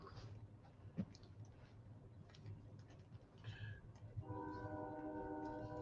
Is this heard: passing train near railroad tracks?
yes